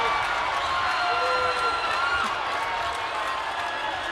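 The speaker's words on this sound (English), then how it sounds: "Listen to this crowd." Basketball crowd at a boys high school game between Riverton and Copper Hills, roaring steadily and loudly throughout after a blocked shot, a dense wash of cheering with no clear pauses.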